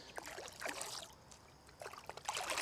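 Liquid nutrient is poured into a mixing container in bursts for an outdoor cannabis grow, with gurgling, trickling splashes that pause midway and resume, close and fairly quiet.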